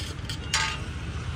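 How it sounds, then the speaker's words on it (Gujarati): Vegetables for mag pulao stirred and roasted in a pan at an Ahmedabad street-food stall, with a short scraping burst of stirring over a steady low background hum. "હવે એને પ્રોપર તરીકે મિક્સ કરી લેવાશું."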